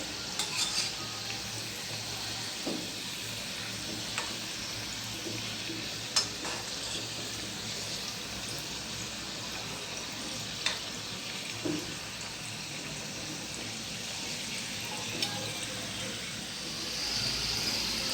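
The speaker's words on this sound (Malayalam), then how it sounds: "ഇത് ഫ്രൈ ചെയ്തെടുക്കുക, അല്ലെങ്കിൽ കരിഞ്ഞു പോകും." Sweet wheat bonda balls deep-frying in hot oil, a steady close sizzle lasting throughout with a few soft clinks and stirs of a utensil and no talking.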